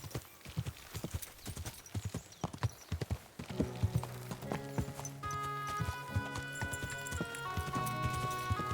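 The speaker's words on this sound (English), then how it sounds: "Easy, good horse." Steady clip-clop of horse hooves trotting nearby in Kingdom Come: Deliverance II, joined partway through by bright sustained musical tones; no talking.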